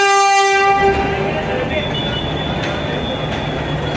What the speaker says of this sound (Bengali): ট্রেনটি ঘুরাচ্ছে আর এটা দুইটা ইঞ্জিন লয়ে গাড়ি ঘুরায়